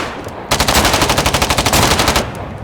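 Rapid automatic gunfire aimed at a tank in a video game, a loud close burst of evenly spaced shots that starts abruptly and runs for nearly two seconds before cutting off, with no talking over it.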